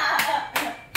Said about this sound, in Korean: 박수 준비.